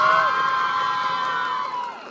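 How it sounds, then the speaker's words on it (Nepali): An audience at a Nepali comedy film event cheers, whoops and applauds together, a loud, steady crowd roar with shouting voices that holds for about two seconds, then fades slightly at the end. "सबै ताली बजाइदिनु होला"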